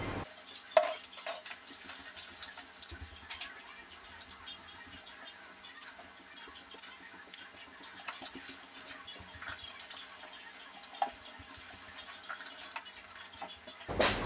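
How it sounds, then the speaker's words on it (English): Hands being washed with soapy water under a running tap, a steady fairly quiet splash and trickle with small shifting rubs and drips throughout. "Wash your hands regularly with soapy water for at least 20 seconds."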